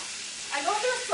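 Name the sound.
pork chops searing in a hot pan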